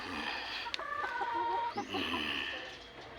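Chickens cluck softly nearby in an open backyard, with a few scattered calls over a steady background hiss.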